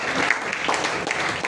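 A church congregation clapping loudly in praise of the Lord, a dense continuous burst of applause filling the room with no speech over it.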